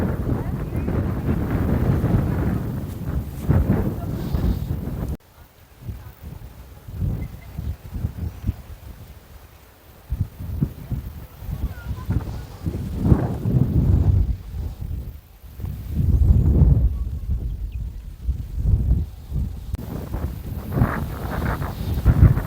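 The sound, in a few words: strong wind blowing on hilltop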